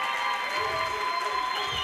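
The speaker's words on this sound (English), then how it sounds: "Let's give them a round of applause." An event audience claps and cheers for sponsors at a youth week gathering, a brief burst of steady, fairly close applause with crowd noise mixed in.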